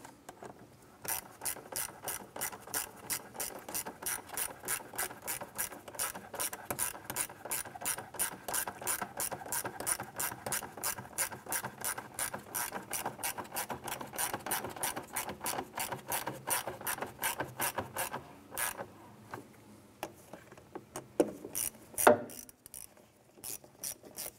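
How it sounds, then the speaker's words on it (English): A ratchet clicks in rapid, steady bursts while tightening bolts on the radiator of a 1994-2004 Chevrolet S-10 pickup. The pawl ticks are close and continuous for about twenty seconds, then slow to a few final clicks. "Let's go ahead and tighten these down."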